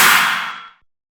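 A single fat, layered dubstep snare hit for tearout riddim cracks loud and noisy, with a bright burst that decays over most of a second before stopping abruptly.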